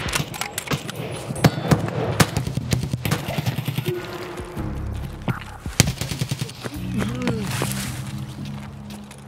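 Gunfire in Escape from Tarkov: sharp rifle shots crack in quick bursts and scattered single reports, some rapid and automatic, mixed with in-game movement and ambient noise, with brief voice moments around the shooting.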